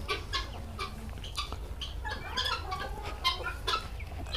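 Quail on a quail farm give rapid, repeated clucking calls, several birds overlapping in an irregular rhythm, fairly quiet and close, with no talk.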